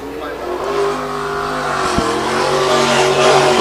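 A sprint race car running on the I-96 Michigan track during a Great Lakes Sprint Series opener, engine roaring steadily and building in loudness, with a brief sharp thump midway and crowd-level ambience.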